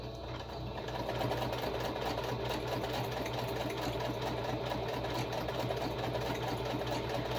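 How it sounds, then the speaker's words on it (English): A sewing machine stitches slippery fabric at a moderate, even pace, its steady fast mechanical whir running close and alone after a brief quieter start. "I would sew faster, but because it's a little bit of a slippery material, I don't want to sew quite as fast"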